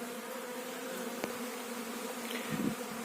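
Honeybees humming at an apiary on a January cleansing flight, a steady continuous drone close by, with a faint tap and a brief louder buzz near the end.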